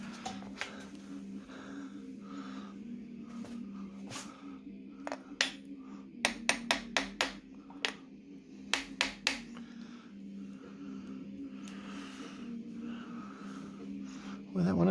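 A brass freeze plug is hammered into a 1968 Rambler engine block with clusters of sharp metallic taps, loud and close, over a low background hum and occasional voices.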